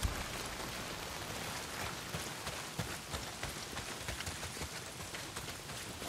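Heavy rain pouring down in the video game Days Gone, a steady, dense hiss of drops on surfaces with scattered louder patters, no voices.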